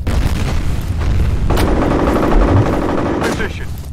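Loud bursts of automatic gunfire and a heavy grenade boom fill a firefight in the PC game F.E.A.R., rapid dense shots running nearly throughout with brief voiced callouts.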